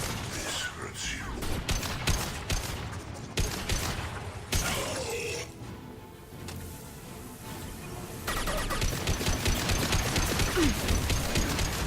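Gunfire in the video game Mass Effect 2, with rapid sharp shots and impacts in bursts alongside game voices, easing to a quieter stretch midway before heavy firing resumes.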